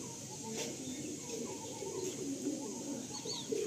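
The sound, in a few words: pigeons cooing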